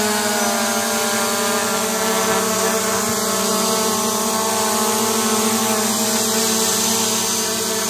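An SG908 Max drone flies nearby, its propellers giving a loud, steady, high-pitched whine with sustained tonal layers that hold constant for the whole stretch, and no one speaks over it.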